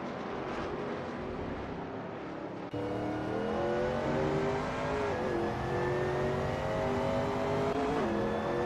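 A Shelby Cobra 351 in a racing video game takes Craner Curves at Donington Park, its engine note droning steadily, then climbing in pitch through the gears as it accelerates, loud and close throughout.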